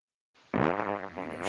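A computer voice assistant plays a synthetic fart sound on a radio morning show: a short, loud, buzzy rasp that starts abruptly and holds steady for about a second, alone with no talk over it.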